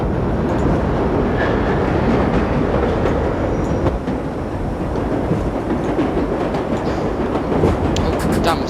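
A New York Line 7 subway train from World of Subways Vol 4 runs steadily, its loud, continuous rumble and rhythmic wheel clatter carrying on throughout with occasional squeal.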